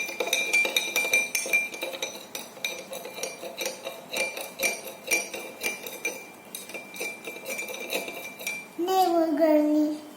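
A metal spoon clinks and scrapes repeatedly against a glass as sand is stirred into water, a rapid near tinkling rhythm throughout, with a voice speaking briefly near the end.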